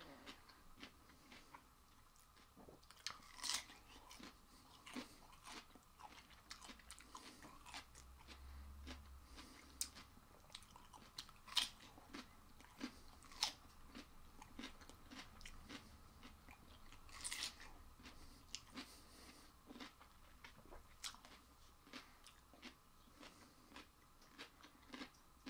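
Someone bites and chews raw cucumber in a quiet room, producing a steady run of faint, close, crisp crunches and wet chewing clicks with no talking.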